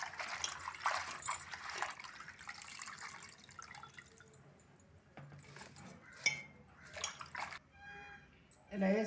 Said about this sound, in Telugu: ఇది కడిగి దబరలో వేసుకోవాలి